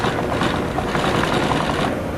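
A sewing machine stitches a piping seam closed on a sewing project, running as a steady continuous whir at close range with no pauses and no voices.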